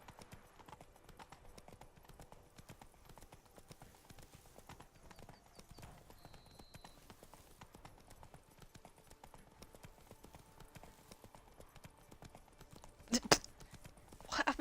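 Horse hooves clip-clopping in The Witcher 3, a steady rhythmic walk of hoofbeats running the whole time at moderate level amid game ambience, with a brief louder clatter near the end.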